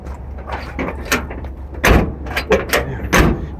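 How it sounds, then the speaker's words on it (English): The door of a 1974 Chevy square-body truck in a junkyard is shut several times, giving a series of sharp metallic clunks and thuds, fairly close and loud, with no talk. "Door closes nice."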